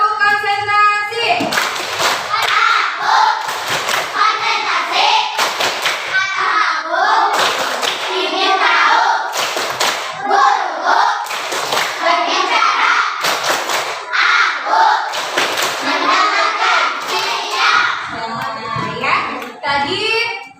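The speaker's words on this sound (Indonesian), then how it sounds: "Coba ya, tepuk konsentrasi." A fourth-grade class performs a concentration clapping routine, loud group claps in regular rhythmic bursts alternating with children chanting together in a classroom.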